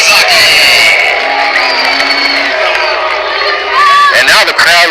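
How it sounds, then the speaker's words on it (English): Baseball crowd in the bottom of the 8th inning of a Hollywood Stars at Monterey Amberjacks game chanting catcher Utah Okazaki's name, a loud, sustained roar of massed voices that swells and recedes over a few seconds. "the crowd with a huge chant for Utah Okazaki"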